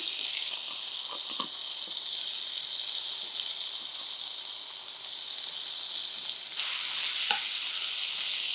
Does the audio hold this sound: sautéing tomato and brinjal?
yes